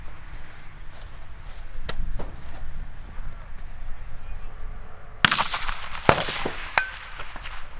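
A precision rifle fires at a shooting match on a Texas ranch. One sharp, loud shot rings out midway, followed by a few fainter metallic impacts and clangs over quiet outdoor ambience.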